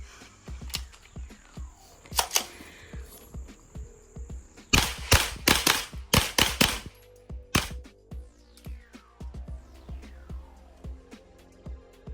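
A Smith & Wesson M&P FPC 9mm carbine with a threaded barrel is fired outdoors. Sharp shots come singly and in fast strings, some quicker than others, loud and close, with quiet pauses between them.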